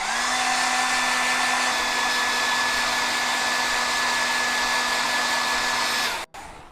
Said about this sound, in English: hair dryer here.